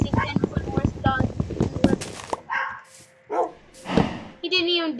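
A dog in the video game Minecraft gives short yipping barks and whimpers, close and clear, after a stretch of people talking and whispering.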